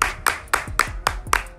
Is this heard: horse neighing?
no